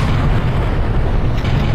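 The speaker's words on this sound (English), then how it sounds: "It needs to be charged up first before unleashing a powerful beam that causes a devastating explosion" A charged Chronoceptor energy beam erupts into a huge explosion in the remastered PC shooter Turok: Dinosaur Hunter, a loud, dense rumbling blast that fills the whole moment with no voices.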